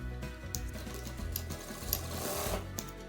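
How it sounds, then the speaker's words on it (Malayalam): A sewing machine runs steadily, stitching the side seams of a frock yoke for a three-tier summer frock, with a continuous close motor hum and rapid needle chatter and no talk. "ആദ്യം ഞാൻ യോക്ക് ബോഡി എങ്ങനെയാണ് സ്റ്റിച്ച് ചെയ്യുന്നതെന്ന് കാണിച്ചു തരാം."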